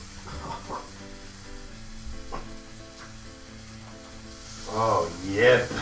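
Tinned corned mutton frying in a pan gives off a steady, soft sizzling hiss that swells near the end, where a brief voice-like sound rises.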